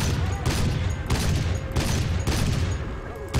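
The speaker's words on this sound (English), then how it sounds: "Those back gunners, They really got anger management problems, don't they? So keen on shooting at you" Rear gunners on a Dornier bomber in War Thunder fire sustained bursts, a dense rattling fusillade that stays loud and close throughout with brief pulses of heavier booms.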